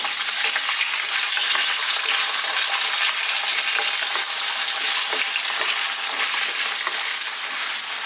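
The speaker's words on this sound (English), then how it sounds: "We're going to stir fry them around on a fairly high heat for about 4 minutes" Potatoes stir-fry in oil over fairly high heat, giving a loud, unbroken, close-up sizzle with faint scraping from the stirring throughout.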